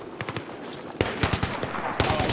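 Rapid bursts of automatic gunfire in the Battlefield 3 Reality Mod military shooter, several sharp cracks in quick clusters at moderate distance, with no talk over them.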